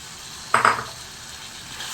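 Okra tipped into a hot pan already holding shrimp gives one short, loud burst of sizzling that quickly fades to a quiet hiss.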